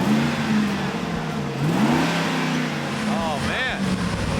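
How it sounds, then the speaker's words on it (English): A 2004 Ford F150 work truck engine, just fitted with new spark plugs, revs up in a few rising and falling pulls, close and loud, while people talk over it. "Rev it up, Bumpus."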